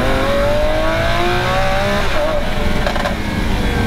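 A Lamborghini Aventador Ultimae's V12 engine roars loud and close during a test drive, with a sustained revving howl whose pitch climbs and a couple of sharp bursts near the end.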